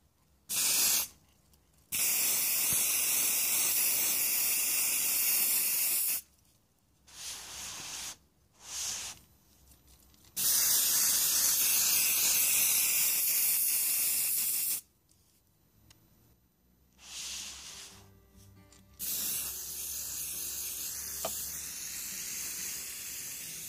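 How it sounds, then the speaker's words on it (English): Black spray paint hisses from an aerosol can in a string of long bursts, some steady for several seconds and others short and choppy, with quiet pauses between them, close to the listener. "I'm gonna spray paint this in black color."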